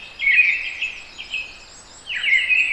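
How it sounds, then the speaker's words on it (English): Two blackbirds calling back and forth in Harwood forest, with a bright, fluttering phrase near the start and a second answering phrase near the end, separated by a quieter gap, fairly close with no talk. "I was greeted by, I think, a couple of blackbirds."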